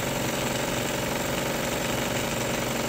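A vertical toy steam engine, fed by a burner without a wick, runs steadily with a continuous mechanical chugging and hiss, close and fairly loud throughout, with no talking.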